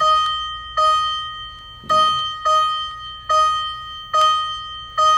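Electronic chimes on a 1984 Toyota Land Cruiser fire truck conversion ring out in clear, bell-like tones, a repeating pattern of sharp struck notes roughly every half second to second, loud and close with almost no background.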